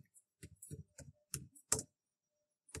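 Close, quiet keystrokes on a computer keyboard come in short irregular bursts of crisp clicks with silent gaps between them, with nothing else audible.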